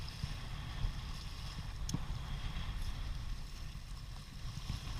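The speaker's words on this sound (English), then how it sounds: "It's very, very windy" Strong gusty wind roars and buffets steadily across the open shore of Sterling Lake, a dense low rumble close to the microphone with no voices breaking through.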